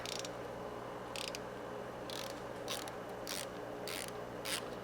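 Vents on a 1971 VW Bus with new dual 34 ICT carburetors operating as a throttle cable is worked, giving faint repeated mechanical clicks and ratcheting over steady background hum.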